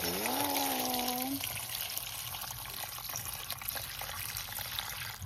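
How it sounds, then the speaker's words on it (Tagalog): Water poured into a pot of bananas for boiling: a close, steady splashing pour whose pitch rises briefly as the pot fills, then continues as a running, trickling wash. "Lalagyan ko na ng tubig."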